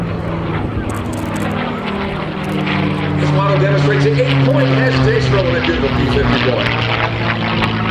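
P-51D Mustang's propeller engine drones loud and steady through an 8-point hesitation roll at an air show, with a public-address voice talking over it.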